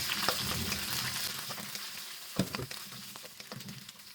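Chopped prawns sizzle in a hot pan with garlic, a close, steady frying hiss with scrapes and clicks of a spatula as the pieces are stirred and mixed.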